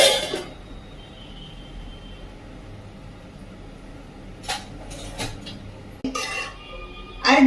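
A lid goes onto a pot of drumstick pods cooking over a high gas flame, giving a few separate metallic clinks and a final clattering settle over a steady low background hum.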